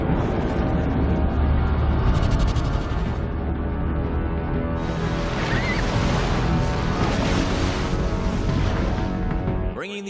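Ocean waves brought down into a stadium roar as a steady, loud wash of surf with windy hiss, churning continuously for about ten seconds before cutting off abruptly at the end.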